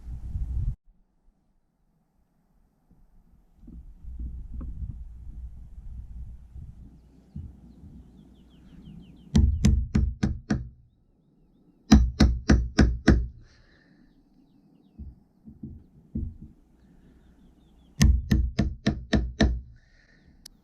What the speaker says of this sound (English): This end of the beam, it really is twisted, so I'm actually cutting out a little bit of it and just trying to level it off